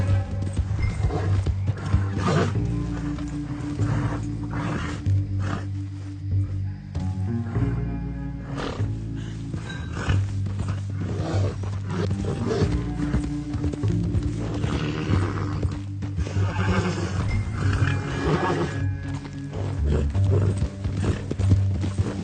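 Horse hooves clip-clop steadily with an occasional whinny in Red Dead Redemption 2, set over a dense, loud game soundscape with a low droning score throughout.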